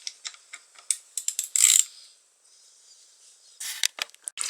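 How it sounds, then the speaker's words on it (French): A ratchet wrench clicks in quick bursts while removing the clutch on an AM6 moped engine, close and crisp, with a quiet pause midway before more rapid clicking. "Votre cliquet."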